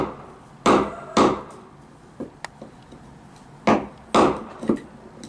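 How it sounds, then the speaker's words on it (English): Sharp metallic strikes of a hammer and chisel on a geode land in uneven pairs and singles, with short pauses between the blows, close up and fairly loud. "We're gonna crack open Geodes."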